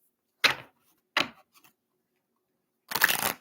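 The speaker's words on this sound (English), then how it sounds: "one more good shuffle for Melissa." Three quick riffling bursts of playing cards being shuffled, close and crisp, separated by short silences.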